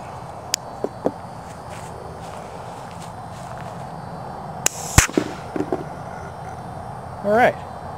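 A single sharp crack from a propane airsoft grenade bursts out in an open outdoor space, preceded by a few small pops and followed by faint rustling and brief voices.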